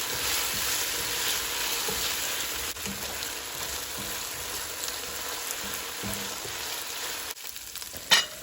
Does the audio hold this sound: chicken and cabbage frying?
yes